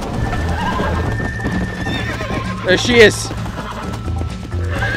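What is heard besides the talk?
horse neighing in Red Dead Redemption video game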